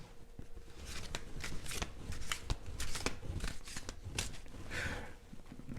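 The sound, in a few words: tarot cards being shuffled and drawn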